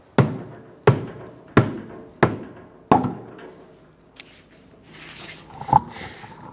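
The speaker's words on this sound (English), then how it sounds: "give it a good whack with a rubber mallet" Rubber mallet whacks on a stuck wheel of a 2014-2019 Kia Soul, five loud, evenly spaced blows close by, followed by fainter knocks and shuffling.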